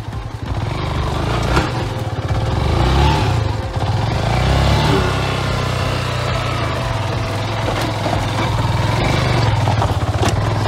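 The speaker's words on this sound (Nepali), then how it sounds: "हेर्नुहोस् यस्तो बाटोमा हाम्रो गाडी जाँदैछ" A motorbike engine runs steadily and loud throughout, droning along a rough, bumpy hill road with no talk over it.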